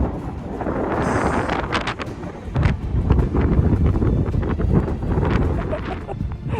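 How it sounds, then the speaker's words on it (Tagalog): Strong gusting wind buffets the microphone at the summit of Mount Fuji, a loud, continuous low roar with sharp surges throughout and no clear voices. "Delikadong delikado sa kalakas ng hangin"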